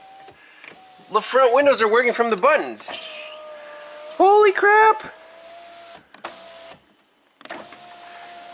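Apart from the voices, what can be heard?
BMW 328Ci convertible power windows moving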